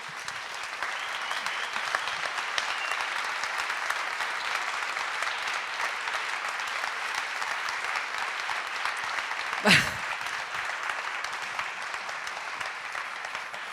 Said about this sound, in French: ils sont un peu disséminés par un applaudissement